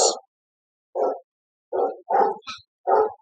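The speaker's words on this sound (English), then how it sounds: "Doggy's barking." A dog barks five times in separate, evenly spaced bursts, close and clear with silence between, during an audiobook reading of The Running Man.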